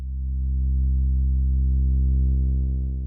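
A modular synth oscillator in VCV Rack plays a steady, low, buzzy tone that swells gently in loudness, sustained for the whole stretch, with rich harmonics shaping toward a sawtooth wave.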